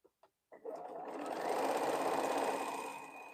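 A sewing machine runs steadily while stitching a border onto the side of a quilt block. A couple of soft clicks come first, then a close, continuous motor whir that swells slightly and holds to the end.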